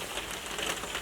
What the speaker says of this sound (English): It's still raining a lot.